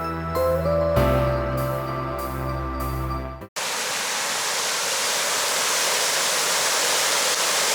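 Water rushes loudly and steadily through the Seton Dam outflow, a broad close roar that starts abruptly after a few seconds of sustained musical tones.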